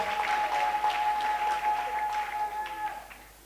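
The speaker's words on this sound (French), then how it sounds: "Vous avez raison de l'acclamer" An audience applauding a speaker at a church gathering, steady clapping from many hands that fades toward the end, with a held tone sounding through it.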